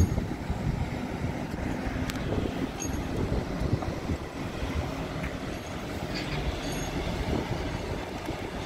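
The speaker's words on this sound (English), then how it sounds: "This wind feel good, but it's picking up a lot of sand." Strong wind blowing sand across an open outdoor site at a cement plant, a steady broadband rushing roar with gusty low rumble and buffeting on the microphone, continuous throughout with no voices.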